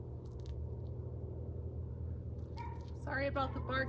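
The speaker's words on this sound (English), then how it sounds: "Sorry about the barking." A small white dog barks several times quickly in a burst near the end, over a low steady rumble, with a couple of faint yips earlier.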